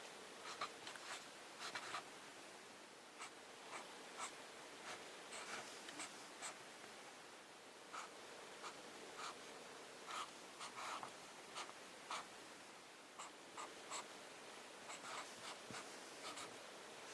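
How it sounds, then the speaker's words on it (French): A pen moves across paper, writing kanji characters by hand, in a quiet room: a faint, close scratching runs in short strokes and taps with brief pauses, steady and soft throughout. "Un peu d'écriture."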